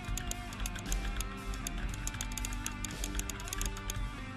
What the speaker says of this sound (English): But you can have a click sound,